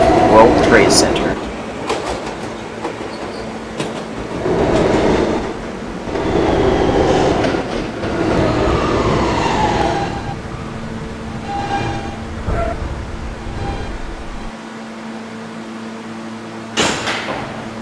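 A Kawasaki-built R160 Siemens subway E train rumbles along in steady motion, with rail noise and clattering car sounds rising and falling, and a recorded station announcement voice speaking over it.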